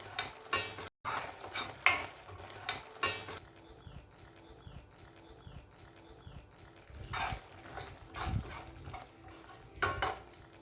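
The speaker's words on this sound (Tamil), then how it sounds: "இந்த மசாலா நல்லா பச்சை ஸ்மெல் போகிற வரைக்கும் வதக்கி விட்டுருங்க." Irregular scraping and clinking of a spoon stirring masala for egg omelette gravy in a pan, with soft sizzling underneath, close and moderately quiet, no talking.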